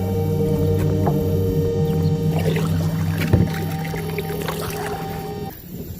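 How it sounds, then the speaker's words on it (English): A kayak moves across water with close, fairly steady hull and water noise, a low hum running underneath, and a soft splash or knock near the middle before the sound drops off. "Now I could paddle with one hand"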